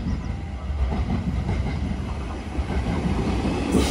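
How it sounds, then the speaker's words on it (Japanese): Train arriving on a Japanese line from the Amanohashidate direction, with a steady, loud rumble of wheels and carriages rolling past close by and faint rhythmic clatter throughout. "天の橋立て方面からやってきた列車です。"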